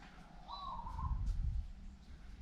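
Birds calling outside a pool villa in Udon Thani: a faint coo and a couple of brief chirps, heard at a distance over a low rumble of background noise.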